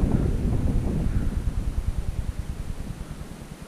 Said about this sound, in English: The wind's coming this way.